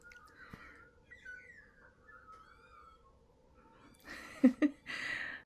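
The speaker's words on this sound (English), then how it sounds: "I'm just sitting here listening to the magpies outside." Magpies calling and squabbling outdoors in a fight with Tasmanian peewees, faint chirps early on, then a loud burst of harsh, overlapping calls near the end.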